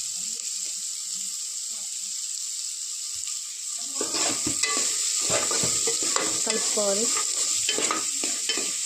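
Green chillies fry in hot oil in a pan while being stirred, a steady sizzle with scraping stir strokes that grows louder and busier partway through, heard alone without talk.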